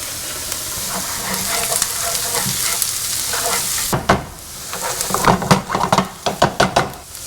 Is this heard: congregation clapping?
no